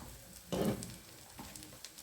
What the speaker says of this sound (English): slide it right into your frying pan